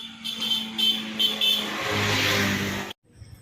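A motor vehicle pulls up for a delivery, its engine rising to a steady, fairly loud hum that suddenly cuts off, with a faint brief sound trailing after.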